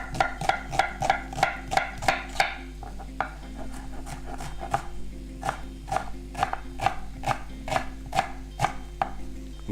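A sharp knife chops ginger finely on a cutting board, with a quick run of rhythmic knocks followed by steadier, spaced chops, close and distinct under a constant low background hum.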